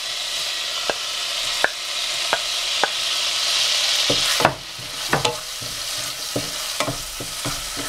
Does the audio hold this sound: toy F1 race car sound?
no